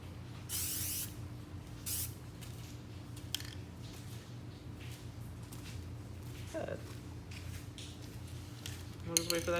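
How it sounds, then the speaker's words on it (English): Short hissing bursts from an aerosol can spray-painting a jack handle black, several separate spurts close by with soft handling clatter between them in a quiet space. "I'm probably just gonna paint it black just to match everything"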